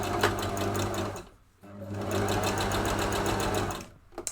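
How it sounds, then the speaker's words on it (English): A sewing machine stitches hat fabric in two steady motor runs broken by a short pause, close and loud, with a brief tap and a faint rattle near the end. "the first time I'm sewing this fabric"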